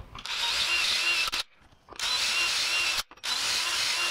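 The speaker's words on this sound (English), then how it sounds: "and then drill the holes" A power drill drilling holes in wood for a bed frame whirs loudly in steady bursts, cutting off briefly twice before spinning up again, close by with no talking.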